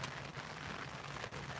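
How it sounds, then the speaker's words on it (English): Steady rain falls outdoors at night in Hawaii, a dense even hiss of drops hitting surfaces that runs without a break for the whole moment, with no voices over it. "Yeah, it's raining right now"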